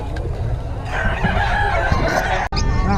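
Roosters crow loudly over a busy, noisy background of clucking chickens, with a brief sharp knock near the end.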